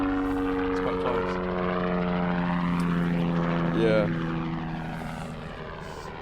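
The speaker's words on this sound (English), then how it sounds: "Helicopter." A helicopter passes close overhead with a loud, steady rotor drone and strong engine tones that swell slightly and then fade; someone briefly speaks under it.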